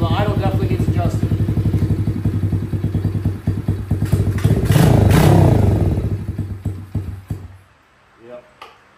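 A new X-Pro x15 110cc dirt bike starts for the first time with the choke on, its small engine chugging loudly and close, swelling in a brief rev and then cutting out into quiet, with a few clunks after.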